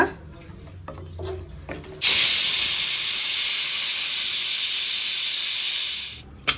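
A pressure cooker full of chickpeas for Kerala kadala curry suddenly vents steam in a loud, steady hiss that lasts about four seconds, then cuts off, after a few quieter kitchen clatters.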